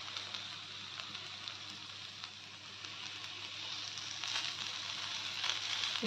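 Bhindi jhanga cooking in a pan on a low flame gives a faint, steady sizzle with light crackles throughout, with no talk over it.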